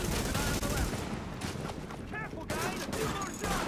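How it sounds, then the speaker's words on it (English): Video game gunfire in a firefight, rapid overlapping shots and bursts forming a dense, continuous barrage, heard up close with a player's voice talking over it at times. "Oh, I'm getting shot at!"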